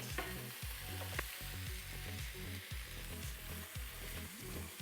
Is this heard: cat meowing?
no